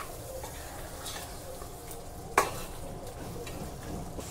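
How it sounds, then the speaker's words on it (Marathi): A spoon stirs spicy dry mutton in a pan after garam masala and plenty of coriander go in, with a soft steady sizzle and faint scraping and one brief clink against the pot. "राहिलेला गरम मसाला आता घालून घेऊया. भरपूर सारी कोथिंबीर, सर्व मिक्स करून घेऊया"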